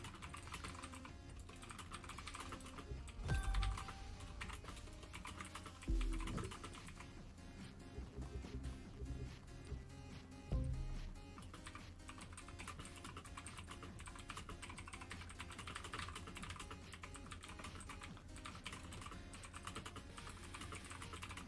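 Steady, fast typing on a computer keyboard runs throughout, a dense stream of close, light key clicks with a few louder thumps, heard during a livestream of The Crew 2 racing game.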